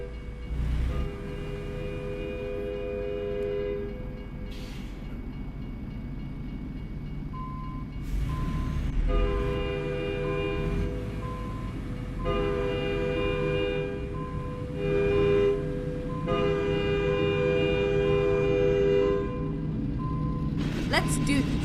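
Trains pass with a sounding horn in American Truck Simulator, a series of long sustained horn blasts over a steady rumble of rolling train and truck engine, with a person talking over parts of it.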